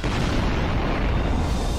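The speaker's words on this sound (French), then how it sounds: "Au loin, d'autres explosions retentirent." Explosions boom in the distance in a western thriller setting, a dense, sustained rumble filling the whole stretch without pause, loud and alone with no voices.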